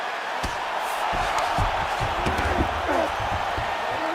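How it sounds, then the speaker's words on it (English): Arena crowd at a WCFC MMA event cheering a ground grappling exchange in north-south position, a steady broad roar with scattered thumps and shouts, moderately loud. "crowd absolutely loving it as the fighters, however compromised, make their way back to the field"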